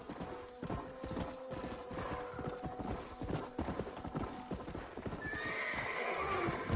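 A horse in a video game clip-clops in a steady, close hoof rhythm, then lets out a whinny toward the end.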